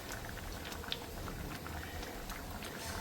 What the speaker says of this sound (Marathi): मस्त मुगाचं मेदगं तयार होत आहे, उकळी आली